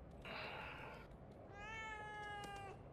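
A cat in the video game The Evil Within 2 gives two clear meows, the first short and higher, the second longer and drawn out, over a low ambient background.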